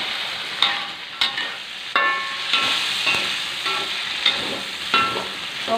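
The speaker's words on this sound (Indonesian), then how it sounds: "Nunggu sotongnya masak baru masukkan bawang merah sahabat ya, baru tumis bawang merahnya." Shallots sautéing with squid in a hot pan for a stir-fry with green beans and tempeh, a steady loud sizzle broken by repeated scrapes and clatters of the spatula stirring, with no talking.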